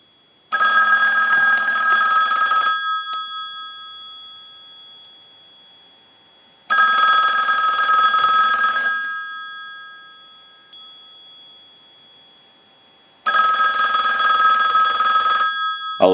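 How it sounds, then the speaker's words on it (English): A Western Electric 502 rotary desk telephone bell rings in three separate bursts, each a loud metallic trill of about two seconds followed by a few seconds of silence. "use the analyzer and send a ring cycle"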